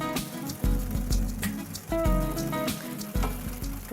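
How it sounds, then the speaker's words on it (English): Chunks of paneer go into a thick simmering sauce for seyal paneer, with several soft thuds and wet plops over a low bubbling sizzle, close and without talk. "These chunky bits of paneer go into this thick sauce."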